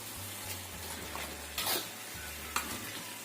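Food sizzles steadily in a pan while a utensil scrapes and stirs through it, with a few sharper clinks against the pan.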